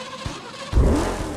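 Car engine in Burnout Paradise turning over, a beat-up wreck: a brief quiet idle, then a sudden loud catch at about three-quarters of a second as the engine fires and revs into a sustained roar.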